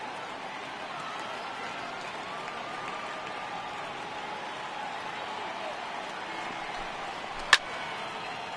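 A simulated baseball stadium crowd in MLB The Show 18 rises on a full count, a steady even roar of cheering and murmur, with a single sharp crack near the end.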